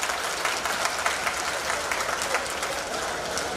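An audience at the inauguration of a Diwali fair organised by the Lucknow municipal corporation claps steadily, a dense, fairly loud wash of many hands with no talk over it.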